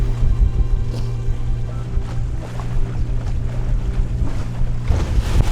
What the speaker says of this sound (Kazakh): Толқындар үлкейіп баратыр. Жел үріп жатыр.